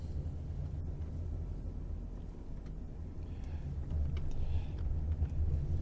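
A 2001 Toyota Celsior (Lexus LS430) idles and pulls away on a road test, a low steady engine rumble from inside the cabin that swells slightly as it gets underway.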